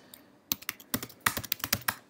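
Quick bursts of typing on a computer keyboard in a Bash shell session, crisp clicking keystrokes in irregular clusters, close and clear with no talk.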